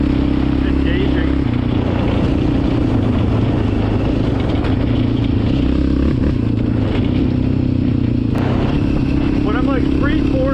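A Yamaha Raptor 700R quad engine drones loudly and steadily at high throttle outdoors in Fremont, New Hampshire, a constant rough roar with talking over it.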